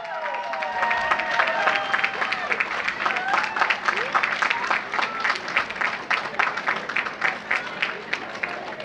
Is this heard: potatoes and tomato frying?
no